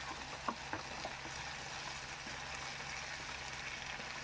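Potato and eggplant sautéing in a pan make a soft, continuous sizzle, with a few light spoon taps and scrapes near the start as the vegetables are stirred.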